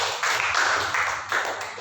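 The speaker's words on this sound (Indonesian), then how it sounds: "Yes, tepuk tangan bagi Tuhan." A church congregation claps together in praise during a worship service, a dense, steady patter of many hands that surges and eases in waves.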